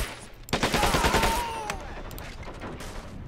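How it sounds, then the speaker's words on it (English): Gunfire rattles in Men of War Assault Squad 2 during an Omaha Beach landing battle, a steady burst of shots near the start that fades to a busy distant battlefield din, with faint voices in the mix. "They're shooting."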